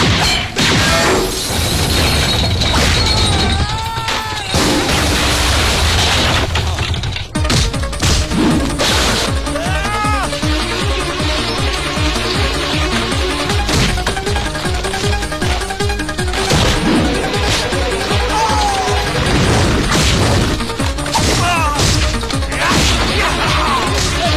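Loud chaotic crashes and sharp bangs in a comedy film scene, like rapid gunfire mixed with smashing impacts, dense and continuous.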